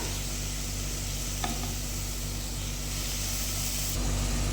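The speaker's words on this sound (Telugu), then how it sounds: "టమాటాలు కొంచెం మెత్తగా అయ్యేంత వరకు మనం వేపుకోవాలి" Tomatoes fry in a pan with a loud, dense, continuous sizzle and hiss, close up, as they cook down until soft, and no one speaks.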